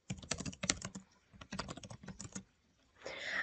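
Typing on a computer keyboard, close and alone: quick clattering keystrokes in bursts with short pauses between them.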